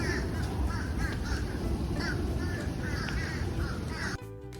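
Birds in the Flamingo Gardens aviary keep up a steady chorus of crow-like caws and chirps over a dense, noisy background, continuous and fairly loud, then it cuts off abruptly near the end.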